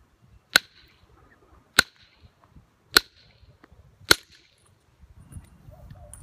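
A large rock is shaped by direct and indirect percussion knapping, giving four sharp, loud, evenly spaced cracking strikes about a second apart, followed by quieter rustling handling noise.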